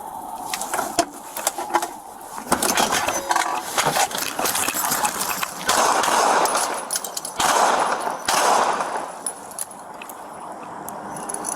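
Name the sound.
gunshots fired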